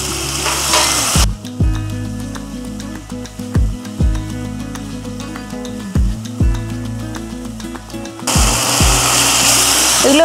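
Jackfruit chilli with chopped tomato frying in a pan gives a loud, continuous sizzle, broken by repeated scraping strokes of a spatula stirring at a steady rhythm, with a brief louder burst of hiss at the start and end.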